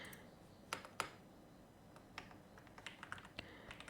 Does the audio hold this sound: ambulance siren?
no